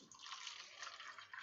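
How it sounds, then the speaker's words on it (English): Water poured into lemonade powder makes a brief, steady, close pouring hiss that runs throughout, quiet overall, with no talk. "What's going to happen when I add the water to it?"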